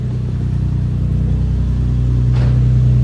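A car engine rumbles steadily at close range, a deep low drone that swells slightly toward the end as it revs.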